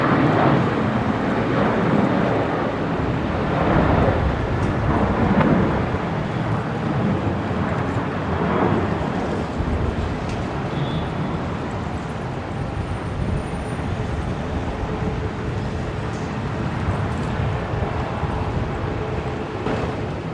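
Velocity flight 962 rolls down the runway at Brisbane Airport, a broad, steady rumble of jet engine noise with wind buffeting that holds throughout at moderate distance.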